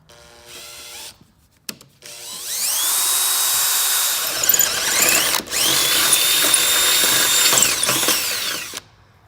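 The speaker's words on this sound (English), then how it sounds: "drill through the layer behind it with the 5/16 drill" A power drill with a 5/16 bit revs up, whines steadily as it bores through steel on a 4Runner rear bumper, pauses briefly, then drills again before winding down, loud and close.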